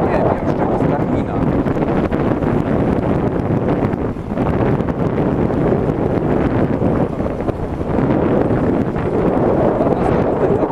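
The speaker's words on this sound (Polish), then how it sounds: "Na tej aplikacji garmina dosyć mocno wieje, bo może nie będzie nic słychać, co mówię." Heavy wind buffets the microphone in constant roaring gusts during a bike ride through hilly park terrain, loud and close throughout, with a voice talking faintly underneath.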